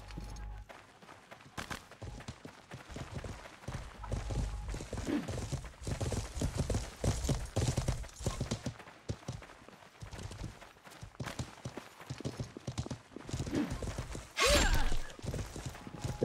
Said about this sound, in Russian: О, что-то белая лошадь.